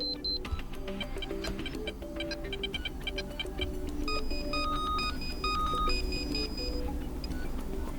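Alarm tones preview one after another on a Nothing Phone 1, with short beeps and chiming melodic patterns shifting as different sounds are selected, played continuously with no talk.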